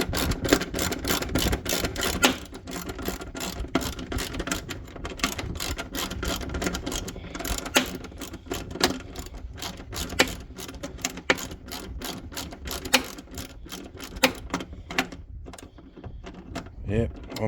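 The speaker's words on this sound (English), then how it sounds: "10mm socket here, guys. We'll go ahead and tighten this guy down." Ratchet with a 10mm socket tightening a bolt on a dual battery tray in a Nissan Patrol Y61: rapid, loud, close clicking in long runs with brief pauses, a steady ratcheting chatter that carries on throughout.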